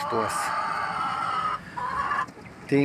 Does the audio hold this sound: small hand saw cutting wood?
no